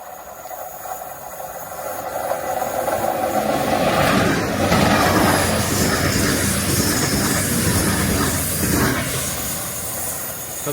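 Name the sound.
passenger train passing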